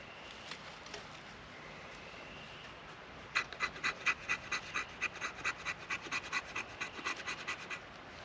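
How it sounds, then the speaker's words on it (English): Back of a knife scraping fine wood shavings outdoors for a bushcraft fire, a run of quick rhythmic rasping strokes, close and fairly crisp, after a quieter start. "Use the back end of the knife to give me some good shavings in there."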